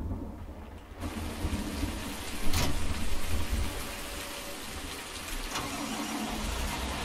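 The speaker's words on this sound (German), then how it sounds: "Wie kommt hier Regen rein?" Rain in the video game Farming Simulator 19, a steady broad hiss of falling rain with a low engine rumble underneath and a couple of brief louder bursts, heard without speech.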